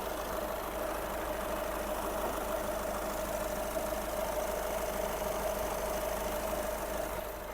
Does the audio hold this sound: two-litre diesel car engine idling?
yes